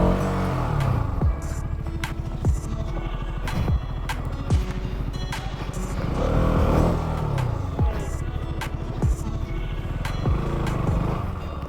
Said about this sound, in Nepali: यहाँबाट निस्किनु पर्ने बाइक तर निस्किएन।